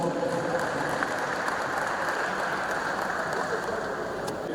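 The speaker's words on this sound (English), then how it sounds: "Let's give them a round of applause, please." Continuous clapping for COLPLANT staff at a university inaugural lecture, a dense, even patter from the audience, loud and sustained with no pauses.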